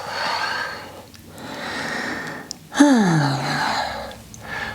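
A long, audible exhale during a yoga plank in a neck and shoulder relief session: two breathy rushes of air, the second sharper and louder with a falling vocal tone, close to the microphone.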